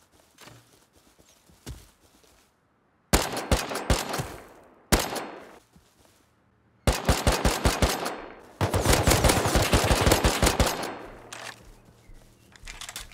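Rapid bursts of automatic gunfire from the survival game Rust, loud and close, coming in several volleys separated by short pauses, the last burst the longest and densest.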